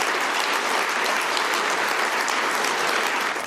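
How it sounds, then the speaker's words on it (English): Sustained applause from a large conference audience at the Munich Security Conference, a dense, even wash of clapping with no talk. "That was the former vice president getting the applause at the Munich Conference on Global Security this weekend"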